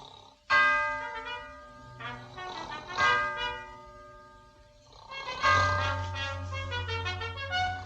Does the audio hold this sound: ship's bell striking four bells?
yes